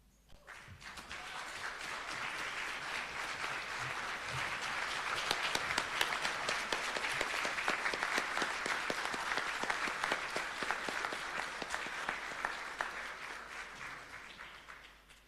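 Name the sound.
audience applauding graduates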